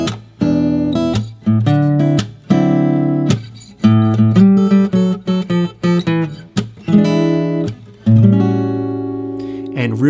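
Electric guitar plays a second blues turnaround example, a steady run of picked single notes and chord stabs with short choked pauses, closing on a sustained ringing chord, close and alone.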